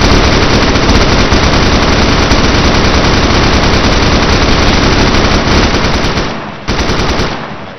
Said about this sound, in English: that's just by shooting in their general direction